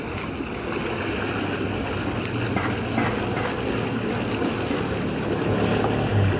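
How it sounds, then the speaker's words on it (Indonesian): Thick mud gushes from an eruption point at a borehole in Indralaya, making a steady, dense rushing churn that holds at an even level throughout. "bisa dilihat riakan lumpur di titik semburan ini sebenarnya cukup deras riakannya"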